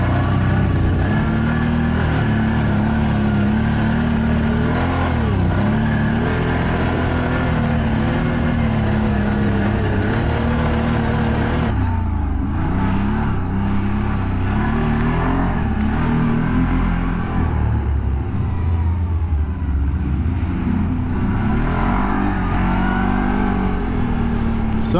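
A CFMoto CForce 1000 ATV runs off-road in Hungary, its engine droning steadily and close with shifting revs throughout, sometimes swelling, with a rough mid-range tone and no pauses.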